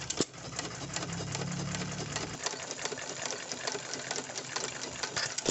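A Sandow air-cooled hit-and-miss stationary engine running, giving a fast, steady mechanical ticking and chuffing with a low rumble underneath, heard at moderate distance and fairly quiet.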